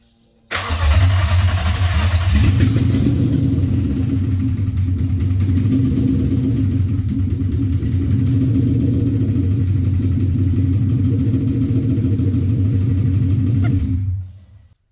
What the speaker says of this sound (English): We're gonna go ahead and start it for the first time, see if it works.